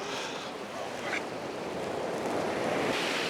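Sea waves washing onto a shoreline, a continuous broad rushing surf with wind on the microphone, swelling slightly louder toward the end.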